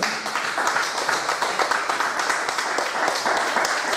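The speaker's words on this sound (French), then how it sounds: "Acclamons le Seigneur." A church congregation claps steadily during worship, a dense, even patter of applause that carries on for several seconds with faint voices mixed in.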